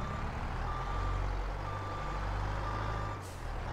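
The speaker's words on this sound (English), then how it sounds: "But let's get the skid steer going," Skid steer in the Farming Simulator 22 video game with its reversing alarm beeping steadily over a loud, continuous engine drone.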